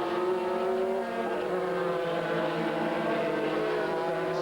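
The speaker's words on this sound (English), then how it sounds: "and cars just flying past now" GT race cars from the FIA GT 2000 season roar past on track, a dense, continuous engine drone with shifting pitch as several cars go by at speed.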